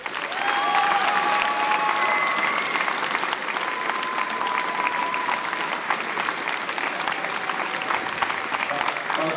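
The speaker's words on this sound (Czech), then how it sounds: "Takže pojďte se všichni zatleskat, protože je to skvělý." Sustained audience applause at the opening ceremony of a national fencing championship, a dense, steady wash of many hands clapping from a large crowd for several seconds, with a few faint voices underneath.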